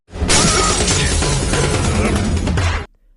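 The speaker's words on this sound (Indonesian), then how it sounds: "memecahkan sebuah botol kaca tepat di kepala Marjim." A loud glass bottle shatters in a sharp, dense burst of breaking glass that rings on for a couple of seconds, then cuts off abruptly.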